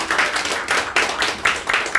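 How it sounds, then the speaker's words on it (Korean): A seminar audience claps in short rhythmic bursts, a brief round of applause with steady, evenly spaced hand claps. "박수 한번 보내주세요."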